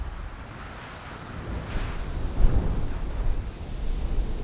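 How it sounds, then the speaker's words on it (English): A hurricane in the Cévennes mountains roars as a steady, loud wind, rising and gusting over a dense low rumble with no break. "In the storm, he has to be careful not to be blown over."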